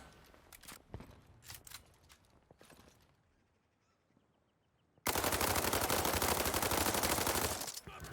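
M4 rifle firing in the video game World War 3: scattered separate shots and quieter stretches give way to a loud, dense, sustained automatic burst for about three seconds before tapering off.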